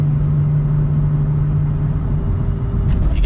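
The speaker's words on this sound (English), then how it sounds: "Let me go full throttle." A BMW 435i's engine drones steadily at full throttle, a loud, continuous low rumble and hum heard from nearby, ending in a brief burst of noise.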